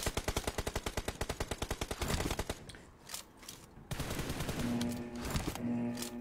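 Rapid automatic gunfire from a first-person shooter video game opens with a fast, evenly spaced burst of loud shots, followed by sporadic shots and louder in-game action with a sustained tone near the end.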